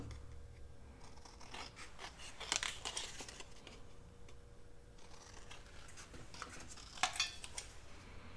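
Scissors snip close by through paper for a paper-towel-roll pocket embellishment, making a few crisp cuts among soft rustling and crinkling of the paper, with no speech.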